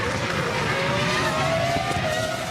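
Formula 1 race cars from the 2002 season, with the Schumacher brothers battling for second place, scream past in a loud, continuous high-pitched engine whine whose pitch climbs steadily.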